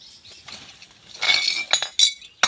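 Glass bottles clink and knock together while being sorted for scrap resale, with a possible bottle breaking. Scattered bright clinks build into a louder cluster of clattering hits near the middle and a few sharp strikes near the end, with no talking.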